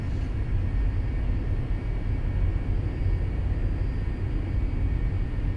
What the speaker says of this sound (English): the aircraft should fly itself down to the runway